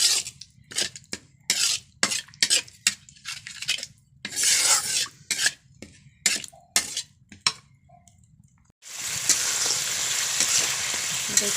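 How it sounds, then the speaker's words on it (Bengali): Spiced paste mixed with whipped lemon-soured yogurt fries and is stirred for hilsa pulao, with repeated scraping strokes in short bursts, then a steady loud sizzle in the last few seconds. "দেখুন বন্ধুরা আমি মশলাটা ভালো করে কষিয়ে নিয়েছি।"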